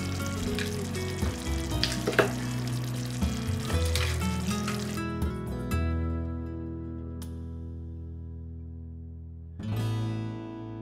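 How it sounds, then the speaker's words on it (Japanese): Meat patties simmer in butter sauce in a pan over medium heat, with a close, busy sizzle and bubbling plus light utensil clinks for about five seconds, then quieter hissing bubbles before a short burst of sizzle returns. "肉ダネに火が通ったら、バターを加えてソースがとろりとするまで中火で辛く煮詰めます"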